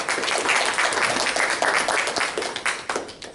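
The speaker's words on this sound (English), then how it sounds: "And a round of applause." Dense, sustained applause from an audience at a science fair awards ceremony, many hands clapping loudly together and tapering slightly at the end.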